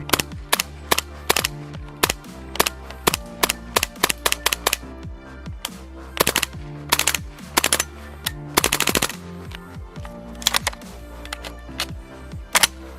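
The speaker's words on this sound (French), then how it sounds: "je ressors du test de tir" Umarex HK MP5A5 Gen 2 gas blowback airsoft replica firing on a test range, with loud sharp shots in single cracks and rapid bursts, spaced by short pauses.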